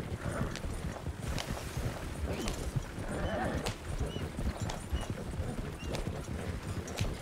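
Horse hooves clip-clop steadily at a trot through Red Dead Redemption 2, with a faint whinny and the game's ambience around it; no one talks.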